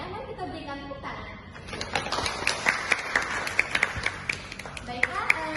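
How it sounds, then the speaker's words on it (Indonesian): Audience applause at a seminar, a dense patter of many hands clapping that builds after a quiet start and holds steady, with a voice talking over it. "Mari kita berikan tepuk tangan."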